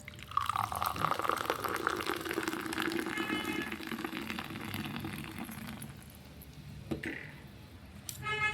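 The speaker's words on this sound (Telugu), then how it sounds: "బిస్లరీ సోడా వేసుకుందాం" Bisleri soda poured into a glass over mint leaves and a spiced salt paste for homemade masala lemon soda, a close, continuous fizzing, splashing pour that slowly softens, with a few light clinks near the end.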